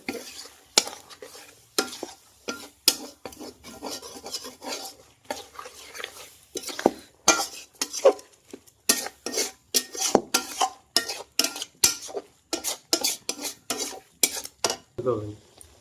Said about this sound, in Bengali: সিদ্ধ করে রাখা মটরটা এবার দিয়ে দিলাম, দিয়ে ভালো করে নাড়িয়ে